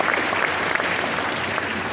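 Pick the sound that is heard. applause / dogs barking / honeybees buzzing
applause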